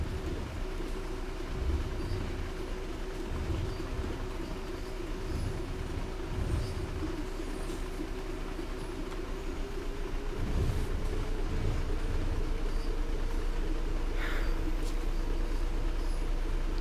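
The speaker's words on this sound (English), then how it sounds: "HST absolutely rocketing toward Bristol." An HST express train in a Great Western train simulator races at speed toward Bristol, giving a steady loud rolling rumble with rhythmic clatter and a faint high whine throughout, no talking.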